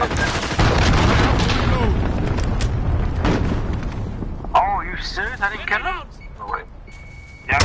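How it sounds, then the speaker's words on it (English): A cruise missile blast in a military shooter game, a loud booming rumble with cracking impacts that fades out, followed by quieter gameplay effects and chirpy tones, with people talking over it. "Enemy cruise missile."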